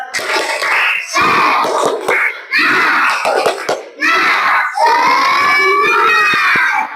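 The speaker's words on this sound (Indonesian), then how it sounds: "Tepuk 1, tepuk 2, tepuk 3, tepuk semangat." Schoolchildren in an Indonesian classroom chant and clap in a call-and-response clapping game, bursts of loud voices alternating with sharp claps in short repeated phrases, with a teacher's voice leading.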